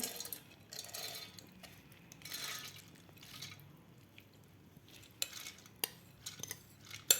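Quiet wet plops and small clinks as soaked moong dal is tipped into a metal mixer jar, faint and scattered, with sharper taps toward the end.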